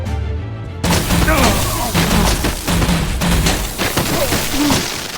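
Soldiers firing guns in Batman: The Enemy Within, a heavy barrage of booming shots that starts abruptly and rattles on continuously, with raised voices shouting over it.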